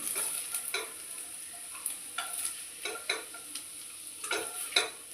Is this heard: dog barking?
no